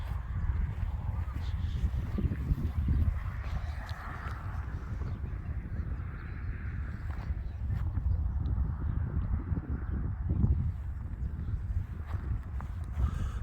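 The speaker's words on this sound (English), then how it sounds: "Sorry about the wind, people. Can't do anything about it." Wind blows hard and continuously across the microphone outdoors at Carhenge in Alliance, Nebraska, a loud, low rumbling buffet that lasts throughout.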